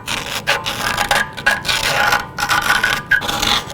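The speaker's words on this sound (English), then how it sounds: "screwdriver to try and clean up around the edge" Steady rasping scrape of a screwdriver worked around a metal edge near a wheel bearing lock ring on a Honda Civic, in short repeated strokes with brief pauses, close up.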